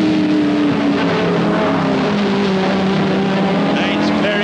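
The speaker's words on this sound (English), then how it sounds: "Mike Crabtree is right on the boot lid of Martin Thomas's Chevrolet Camaro." 1971 saloon racing cars, including a Chevrolet Camaro, race at Crystal Palace circuit, with loud continuous engine drones and overlapping pitched whines from several cars close together, sustained throughout.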